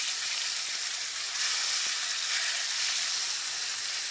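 Fish fillets frying in a pan with lemon butter sauce, giving a steady, bright sizzle that stays close and even throughout, with no voices over it.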